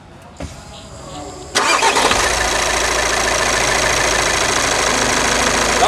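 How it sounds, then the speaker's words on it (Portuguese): A Volkswagen Amarok 2.0 engine starts after its timing belt has been replaced. After a short crank it catches with a loud jump and then settles into a steady, close idle. "Dá partida para nós aqui, por favor."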